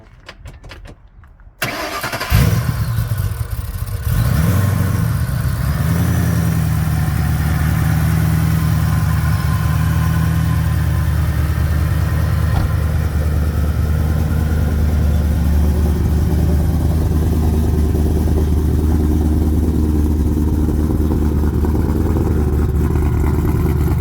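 A tuned car with a lumpy, thumping idle; the engine cranks and fires after a short quiet moment, then settles into a loud, steady close-up idle with a heavy low rumble that continues alone.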